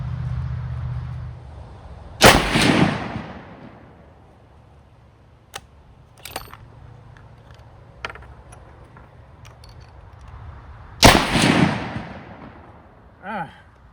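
Two loud, close rifle shots from a Ruger American Compact .308 ring out at a range several seconds apart, each a sharp blast with a decaying tail, separated by quieter clicks and handling noises.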